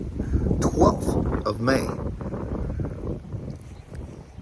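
Gusty wind on a cool, showery day buffets the microphone with low, uneven rumbling under a person talking.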